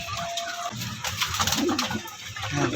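Pigeons kept for racing cooing in a loft, a soft continuous murmur of low coos close by over a busy background with no talking.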